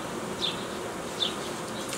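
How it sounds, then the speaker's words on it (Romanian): Honeybees in a queenless hive compartment give off a steady, faint, continuous buzzing hum, with a couple of brief higher-pitched tones over the drone. "albinele din compartimentul unde consider că nu au matcă au început să scoată un zumze specific"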